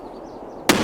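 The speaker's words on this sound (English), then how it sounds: "I threw a nade to the wall." A grenade explodes against a wall in the shooter Escape from Tarkov. A single sudden loud blast bursts in near the end after quiet ambient hiss, with no voices.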